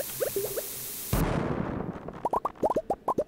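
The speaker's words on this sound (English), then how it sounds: "Let's put a bomb here." A bomb exploding in the Stardew Valley Expanded Skull Cavern mines, a sudden loud blast that decays into rumbling, followed by a run of short bouncy popping blips.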